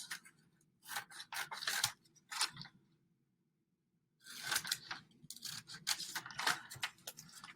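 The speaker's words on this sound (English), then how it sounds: "So I'm going to start by just cutting this picture out." Scissors cut a picture out of paper in close, crisp bursts of snipping and rustling, separated by a brief pause before a second run of cuts, quiet and without speech.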